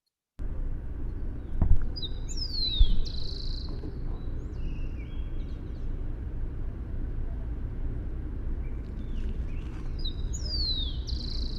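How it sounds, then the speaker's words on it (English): A bird sings in short, bright chirping phrases at the start and again near the end, over a steady rumble of city traffic in a South American city. "down there, I recorded this bird"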